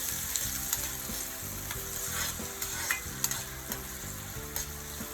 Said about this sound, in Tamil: ஒரு பெரிய வெங்காயத்தை பொடியாக நறுக்கி அதையும் போட்டுடலாம் அடுத்தது நம்ம காரத்துக்கு ஏற்ற மாதிரி பச்சை மிளகாய் அதையும் பொடியாக நறுக்கி போட்டுட்டு